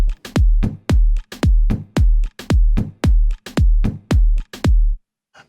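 Percussion in an FL Studio afro house beat plays a loop of deep, booming drum hits with a falling pitch, about two per second in a steady groove, loud and close with nothing else underneath.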